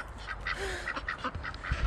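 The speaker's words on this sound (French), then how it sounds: "Ah, ils savent pas où ils vont ces canards, je crois." A small group of ducks quacking near the listener, with rapid overlapping calls and honks throughout.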